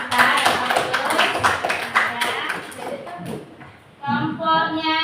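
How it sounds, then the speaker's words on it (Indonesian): A classroom group gives applause, a dense burst of many hands clapping together for about three seconds before fading, followed by a voice speaking. "Tepuk tangan untuk teman kita yang bagus."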